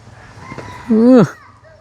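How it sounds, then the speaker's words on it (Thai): Chickens at a rural house in Thailand scuffle, with a loud rooster squawk rising sharply near the middle over low background clucking and faint murmurs. "ไก่ไผกับไก่ไผคือจังว่าตีกันคักแท้"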